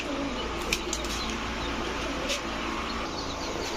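Long-bodied racing pigeons on a farm coo continuously in a close, dense flock, with a few brief wingbeats and flaps breaking through the steady murmur.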